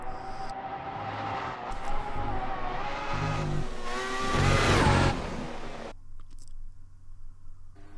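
GP3 race car engine in a racing video game, a steady high revving drone that rises and falls through gear shifts while exiting a corner, loud and close, easing off near the end.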